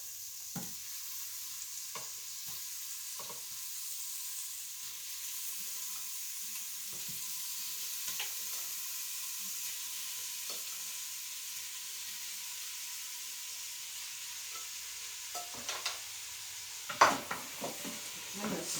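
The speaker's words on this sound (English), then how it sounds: "I'm going to stir it up here and make sure it all gets kind of coated while we're doing a nice browning on it" Beef browning in an Instant Pot, a steady close sizzle and hiss with scattered scraping stirs, a few louder clatters of the utensil near the end.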